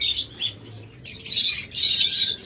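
Violet opaline lovebirds, a breeding pair, give bursts of high chirps and tweets, the later calls denser and louder, close by with no talk.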